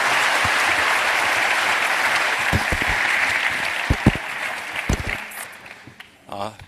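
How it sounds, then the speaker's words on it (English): An audience at a Chaos Communication Congress conference talk applauds to welcome the speakers, loud dense clapping that gradually thins and fades, leaving scattered handling bumps and shuffles near the end. "So if you'll please join me in giving them a warm round of applause"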